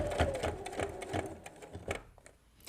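A sewing machine stitching a table runner, rapid rhythmic mechanical chattering in short runs that slow and stop toward the end, close and fairly quiet.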